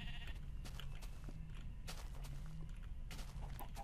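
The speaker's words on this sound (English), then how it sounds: "Sheep are pretty much useless" Sheep bleats in a survival video game set on a farm, rising over a dense, noisy background with sharp clicks and bursts, fairly faint overall.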